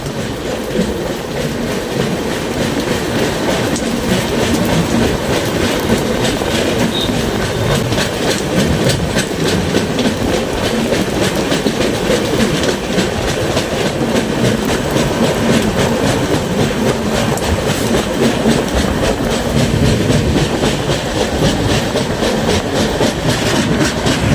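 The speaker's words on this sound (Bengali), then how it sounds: "এত লম্বা একটা ট্রেন কত সুন্দরভাবে প্রদর্শন করে ঘুরছে" The long Brahmaputra Mail express train rumbles steadily along the rails between New Jalpaiguri and Dhupguri, its wheels clattering rhythmically and continuously at close range, with no voices.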